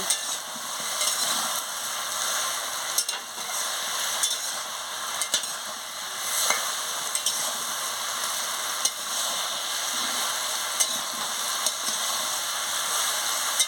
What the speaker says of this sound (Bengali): ভালো করে আনাজটাকে কষিয়ে নিচ্ছি